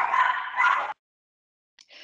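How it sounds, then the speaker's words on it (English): A dog gives one drawn-out, whining yelp lasting nearly a second, then falls silent before a brief, higher yip at the end. The sound is close and fairly loud, with no talking. "It sounds like exactly like my dog."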